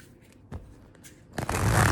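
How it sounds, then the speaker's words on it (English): Tarot cards get shuffled close by: a few soft taps and riffles at first, then a dense, continuous flurry of card riffling in the final half-second or so, with no voice over it. "I'm just trying to shuffle really well"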